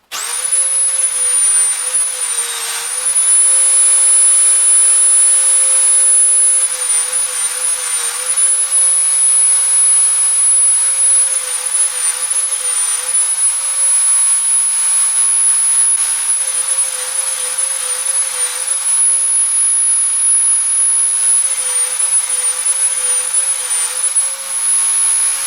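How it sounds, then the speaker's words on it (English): Steady high-pitched whine of a drilling attachment boring six holes into a ring gear for countersunk socket head screws, a continuous loud machine tone with brief dips as each hole is drilled, no talk. "So I'm going to get my drilling attachment set up, and I'll drill the 6 holes"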